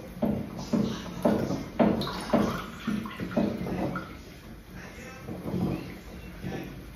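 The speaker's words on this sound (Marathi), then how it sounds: "त्यात आता गरम पाणी टाकून साफ करून घ्यावं लागेल." Hot water splashes and gurgles in a series of bursts, as if poured and swished inside a container, fairly close with some clatter.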